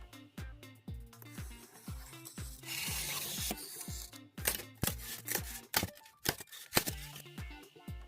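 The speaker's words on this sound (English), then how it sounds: "get a chunk of styrofoam, a straight edge, and some sort of blade and cut 3 strips between 3 and 5 inches thick" A blade slices strips of styrofoam along a straight edge, making repeated close rubbing and scraping strokes in an irregular rhythm, with a longer grating stretch partway through and no talk.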